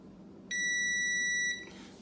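A multimeter on continuity test against a Samsung dryer heating element gives a single steady electronic beep lasting about a second over faint background hiss.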